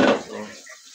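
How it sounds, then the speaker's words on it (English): Water is poured into a soup pot in a Jamaican home kitchen during an evening dinner: a short splash, fairly faint, that quickly fades within a second. "so put in a little water into it"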